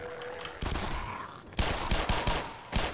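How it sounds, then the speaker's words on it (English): Rapid alternate fire from a gun in the Black Mesa video game: two dense bursts of quick, punchy shots, loud and close, separated by a short pause. "Ah, that's the rapid fire."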